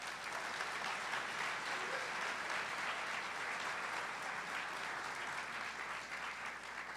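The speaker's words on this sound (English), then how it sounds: "Let's give Chris another round of applause" An audience at an education conference general session gives a sustained round of applause that stays even throughout, heard from within the hall at moderate volume with no talk over it.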